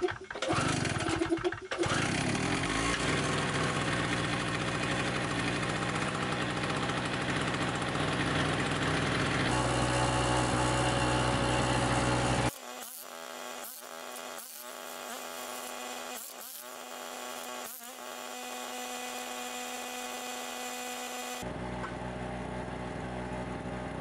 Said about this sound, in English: This generator is 800 watts and works great for toting around the farm